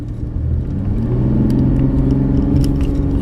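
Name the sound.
2017 GMC Canyon V6 engine with 8-speed transmission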